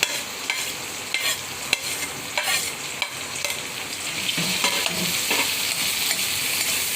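Chicken fries in a pan while being stirred, giving a steady sizzle broken by clinks and scrapes of the utensil against the pan, fairly close and heard alone.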